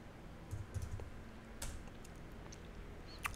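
Quiet typing on a computer keyboard as a short command is entered, a handful of soft, irregular key clicks with no talking.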